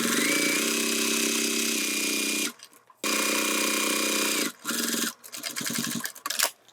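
An electric sewing machine stitches through a thick bag strap with a strap adjuster, running in steady loud bursts with short pauses between them and a final stretch of stop-start stitching.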